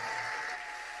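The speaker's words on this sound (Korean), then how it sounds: "자, 다시 한번 우리 박수로 감사하겠습니다." Faint, distant audience applause at a Korean church gathering, a brief soft wash of clapping fading toward the end.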